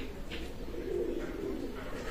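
Pakistani Teddy pigeons of an imported bloodline coo softly in a low, murmuring stretch, with faint background noise and no clear talk.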